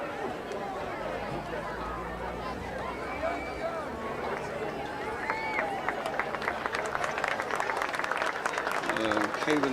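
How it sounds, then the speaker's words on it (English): A crowd at a high school varsity football game gives an injured player a round of applause, scattered clapping building into a steady patter from the sidelines amid crowd chatter and nearby voices. "Lysell getting a round of applause from both sidelines."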